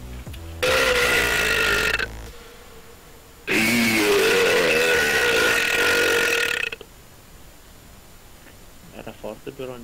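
Two long, loud belches in a burping contest, each lasting a few seconds with a gap between them, followed by quiet and faint clicks.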